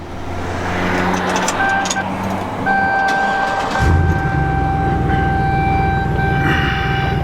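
A Chevrolet SSR Super Sport Roadster's engine cranks and catches partway through, settling into a deep, steady, loud rumble. Before it starts, a steady cabin hum and faint high tones are heard.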